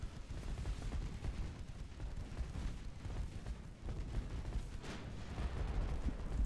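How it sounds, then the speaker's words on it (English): Battleship guns firing in the naval strategy game Ultimate Admiral Dreadnoughts, a dense continuous rumble of booming salvos and distant blasts layered together, fairly muffled, with no speech. "Just hear the sounds of my guns."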